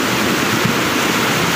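Rainwater rushes down a road during a landslide in Majua, Sikkim, after heavy rain, making a steady, loud, broadband roar of flowing water that continues without a break.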